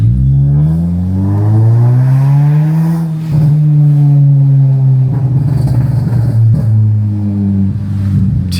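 A Honda Civic FD accelerates hard in first gear, its engine note climbing loudly and smoothly for about three seconds. It then holds a high, steady drone with some rattling clatter, close up and alone.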